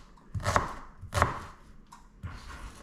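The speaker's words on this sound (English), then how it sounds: "So chop the onions up a bit." Onions being chopped with a knife on a board: three or four distinct, fairly close chops spaced about half a second apart, with a little handling noise between them and no talking.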